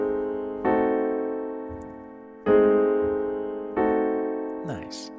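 Piano playing locked-hands diminished chord voicings, three struck chords in all, each ringing out and slowly decaying, close and clear, with a brief shuffling noise at the end.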